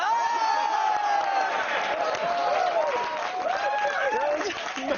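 Sustained applause from a crowd fills the whole stretch, loud and continuous, with a few whoops mixed in.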